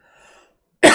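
A single loud, close cough bursts out after a faint throat clearing, short and harsh, in an otherwise quiet room.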